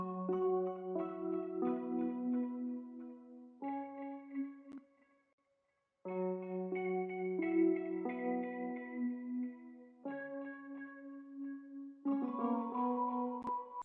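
A layered 80s RnB electric piano sample with chorus, reverb and dual delay plays soft sustained chords in repeating phrases, echoes trailing behind each one, with a brief silent gap midway.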